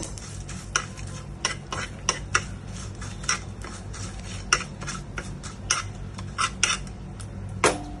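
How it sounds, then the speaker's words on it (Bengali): A utensil stirs a five-spice tempering in a pan, giving repeated sharp metal clinks and scrapes in an uneven rhythm over a low background sizzle, close and clear, with no talking. "এবারে আমি 5 ফোড়ন দিয়ে দেব। একটু নাড়িয়ে দেব।"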